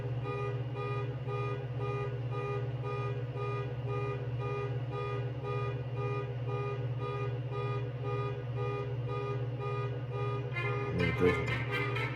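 A continuous electronic alarm drones steadily with a repeating tonal pattern, holding loud and unbroken, with a brief rougher burst near the end, during Hurricane Milton in Key West, Florida.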